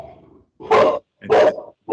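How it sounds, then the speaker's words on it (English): A dog barks loudly nearby in three strong bursts, evenly spaced, after a short low growl or murmur at the start. "and dog is agreeing with me."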